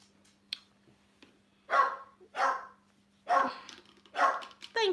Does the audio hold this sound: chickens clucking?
no